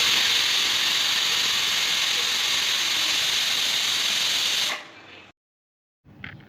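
A pressure cooker cooking chickpeas gives off a loud, steady hiss of escaping steam that cuts off abruptly near the end, leaving a short silence and then a few faint clinks.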